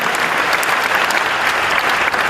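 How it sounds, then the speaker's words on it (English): Dense, steady applause from a large seminar audience fills the hall, many hands clapping at once at a constant loud level throughout. "Thank you for the applause"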